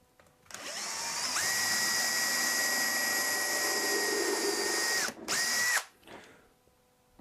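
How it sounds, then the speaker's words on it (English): A power drill spins up, then holds a steady loud whine for about four seconds while a screw is driven. It stops briefly, gives one last short burst, then winds down. Nobody speaks. "And then drive a screw through this way."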